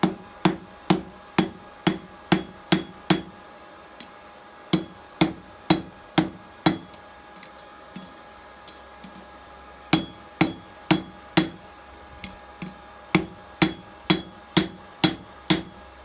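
A hammer strikes hot steel while forging a blacksmith's spring fuller, sharp ringing blows landing close in quick regular bursts of about six to eight hits, separated by brief pauses.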